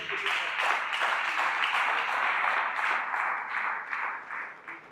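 Church conference audience applauding the Lord, steady sustained clapping from a crowd, moderately loud and continuous, tapering slightly toward the end with no voices over it.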